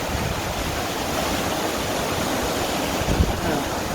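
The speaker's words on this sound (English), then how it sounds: "That's the river near my house that's coming up from where the mountains over there." A swollen river near a house, fed from nearby mountains after five days of continuous rain, rushes in a steady, dense roar, like loud broadband water noise that holds even throughout with no voices.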